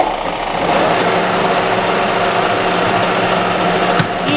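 Metal lathe spinning at 250 rpm while taking a rough cut with special chuck jaws fitted: a loud, continuous mechanical drone and chatter, close and unbroken, with no talk over it.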